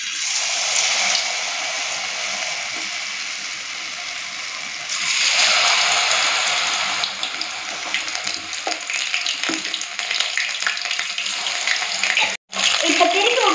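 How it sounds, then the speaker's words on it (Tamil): Mushrooms fry in hot oil in a kadai with a loud, continuous hiss and crackle close by, which swells further partway through as stirring clatters in the pan. "கடாய் வச்சு எண்ணெய் ஊற்றிக்காங்க. எண்ணெய் காஞ்சிடுச்சு. கலந்து வச்சு காளானை ஆட் பண்ணிக்கலாம்."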